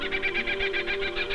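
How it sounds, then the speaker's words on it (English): A bird calls in an Australian eucalyptus forest in the style of a kookaburra, a quick run of rhythmic, rapidly repeated cackling pulses, fairly close, over a steady low tonal hum. "The cries are mostly from birds like the kookaburra."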